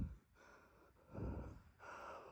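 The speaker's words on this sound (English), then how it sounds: "Out of breath." Heavy, ragged breathing of someone out of breath, close and fairly quiet, with three gasping bursts of air separated by brief pauses.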